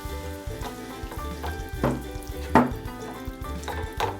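Tomatoes sizzle as they go into a pan of well-roasted peppers for Turkish menemen, with a steady close frying hiss broken by a few sharper crackles and utensil clinks.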